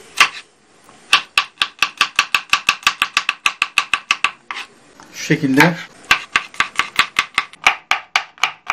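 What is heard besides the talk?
finely chopping garlic with a knife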